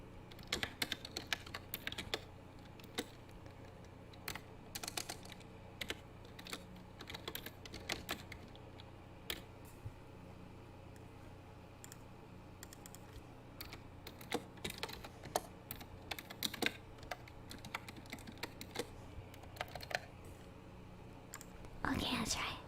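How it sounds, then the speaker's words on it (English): Loud, close typing clatters on a computer keyboard picked up by an ASMR microphone, arriving in irregular bursts of sharp key clicks, with soft whispered talk heard between and under them. "You're gonna hear very loud typing."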